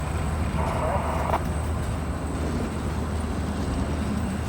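A steady, heavy rumble of a freight train with hopper cars and a load of railroad ties rolling by close, with a continuous low drone and faint squeal, and a voice speaking over it.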